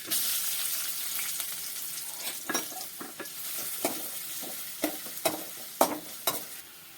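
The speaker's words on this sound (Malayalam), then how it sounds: "ഈ ഉള്ളിനെ ഒന്ന് നമുക്ക് ഇതിലേക്ക് ഇട്ടിട്ട് ഒന്ന് വറുത്തെടുക്കാം" Shallots sizzle and crackle in hot coconut oil, with a steady hiss and occasional scraping knocks of a spoon stirring them.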